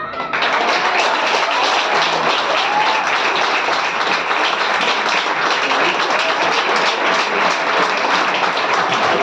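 Sustained applause from an audience at a squash tournament prize distribution after a trophy is awarded, dense and steady clapping filling the whole stretch at an even, loud level.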